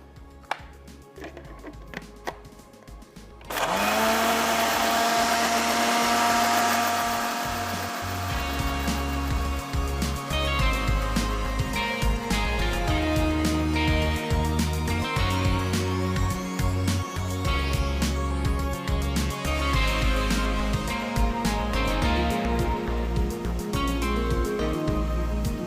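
A blender starts up after a few seconds of quiet and grinds chutney of salt, sugar, crushed cumin, ground red chilli and water, a loud, sustained whirring roar close by that continues steadily to the end.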